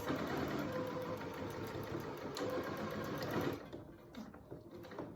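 A sewing machine stitches a fabric face mask with elastic in a fast, steady mechanical whir of rapid needle strokes, then stops after about three and a half seconds, leaving faint handling sounds.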